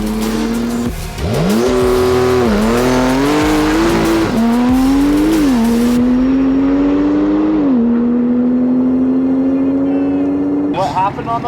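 A tuned car running a JB4 map at about 20 psi of boost with traction, ABS and stability control off launches on an airport drag strip, its engine note climbing loud and close through several gear changes before easing off.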